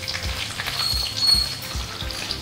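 Hot oil sizzles and crackles steadily, with small popping bursts as crushed garlic fries in the pan while cooking fish head curry; no one speaks.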